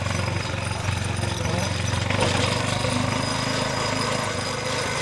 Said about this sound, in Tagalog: Maingay-ingay na lang yung sidecar ko.